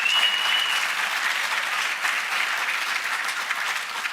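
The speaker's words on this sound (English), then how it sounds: "We need to give them a round of applause" Conference audience at a national space conference closing session applauding the exhibitors; sustained, even clapping from a large hall, steady and fairly loud from start to finish.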